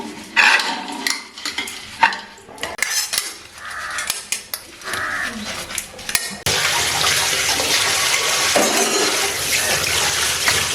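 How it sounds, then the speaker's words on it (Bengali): Dishes being washed by hand in a home kitchen: clinking pots, plates and cutlery for several seconds, then a steady rush of running tap water, close and fairly loud, with no talking. "আর এখন বাসন ধুচ্ছি"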